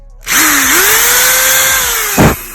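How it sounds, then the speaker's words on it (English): A power drill boring guide holes into a ducktail wing for a Lexus IS300, whining up loudly from start and holding a steady pitch, then finishing with a short rough grinding burst as the bit bites through. "So it's a smaller drill bit from the ones on top than the bottom we need"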